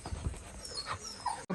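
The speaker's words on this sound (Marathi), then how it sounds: "ट्रेनिंग केलेले कुत्रे आहेत" A trained dog panting nearby, quick soft breathy huffs with a faint whimper, brief and close.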